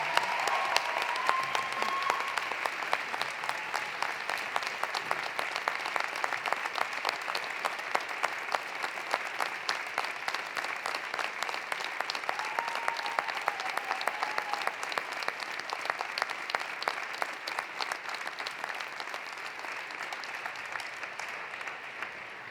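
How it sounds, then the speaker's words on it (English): A large audience at a University of Alberta convocation ceremony applauds supporters in the crowd, with dense, sustained clapping that stays steady and full for over twenty seconds. "give them a huge round of applause"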